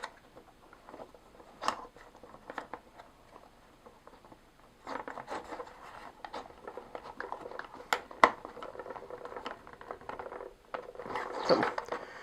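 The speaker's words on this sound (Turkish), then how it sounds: "Sonra bir vida vasıtasıyla burayı çok güzel bir şekilde sıkıyoruz." A small screw being driven into a motor mount on an animation film machine assembly kit, giving dry clicking and ratcheting scrapes in short irregular bursts, close and fairly quiet, with no talking.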